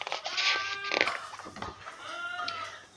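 A goat bleats in wavering, harmonic cries, one near the start and another toward the end, with a rustle between, as an animal sound effect in a children's farmyard read-aloud story.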